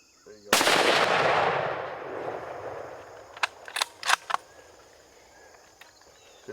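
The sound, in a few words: gunshots during an elk hunt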